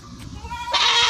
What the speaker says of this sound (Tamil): இந்த ஆடு மாடு எல்லாம் கடந்து கத்திட்டு கிடக்கு